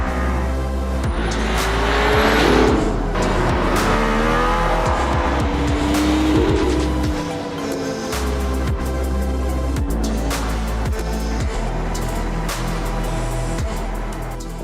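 Mercedes-AMG ONE hypercar accelerating hard on a circuit in Barcelona, a loud, close engine roar rising through repeated upshifts with rising and falling pitch sweeps across the whole stretch, no talking.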